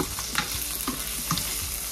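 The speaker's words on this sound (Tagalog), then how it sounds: "magigisa tayo, magsusutay tayo ng onions, garlic and tomato" Onions, garlic and tomato sauté in a hot pan, giving a steady close sizzle broken by brief scraping stirs of a utensil, with no voices.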